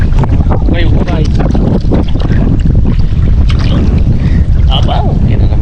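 Loud gusting wind on a river buffets the microphone in a continuous roar, with splashing water and indistinct voices breaking through now and then.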